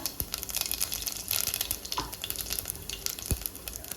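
Ajwain and cumin seeds crackle and sizzle in a tablespoon of hot oil, a dense, close, continuous spitting with scattered sharp pops throughout.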